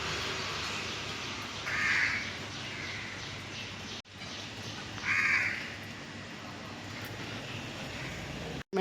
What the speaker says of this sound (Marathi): सकाळ सकाळ पक्ष्यांचा बघा आवाज येतोय तुम्हाला